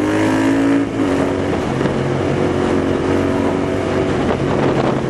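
A Royal Enfield Interceptor 650 motorcycle cruises at about 80–90 km/h on a steady throttle. Its continuous engine drone blends with heavy wind rush across the microphone, loud and unbroken throughout.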